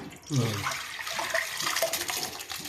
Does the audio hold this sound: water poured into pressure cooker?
yes